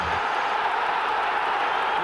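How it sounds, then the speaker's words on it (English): A stadium crowd at a 1996-97 Premier League match between Liverpool and Arsenal applauds goalkeeper David Seaman. It comes through as an even, distant wash of applause and crowd noise with no single clap standing out. "And huge applause for David Seaman"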